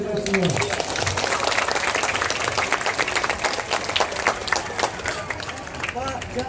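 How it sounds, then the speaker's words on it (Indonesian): A crowd at a Hari Santri national celebration in Kutai Kartanegara claps in a busy, uneven burst, with distinct individual claps and voices and cheering mixed in. "tepuk tangan untuk kita semua."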